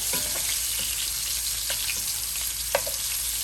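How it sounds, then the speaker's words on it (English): Meatballs for Swedish meatballs fry and brown in a hot pan, giving a steady close sizzle with a few brief scrapes and light clicks on top. "Just want to get good browning on both sides of the meatballs."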